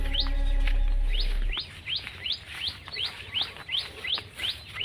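Birds chirp in a rice paddy field near Kedung Satriyan village in Blora, where a late harvest has drawn flocks feeding on the grain; short, high, repeated calls come at a steady rhythm, close and clear, with no talk.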